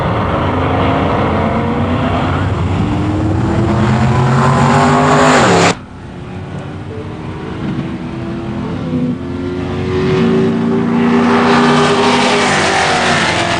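Two 1992 muscle cars, Mustangs among them, drag racing down the strip: a loud, sustained roar of engines rising through the gears, a sudden cut as they pass, then a farther engine building again.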